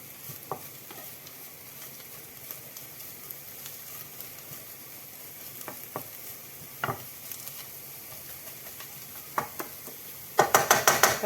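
Chopped carrot and onion with chicken sizzle quietly in oil in a pan, with scattered scrapes and taps of a stirring utensil, ending in a burst of louder rapid clatter as the vegetables are stirred vigorously.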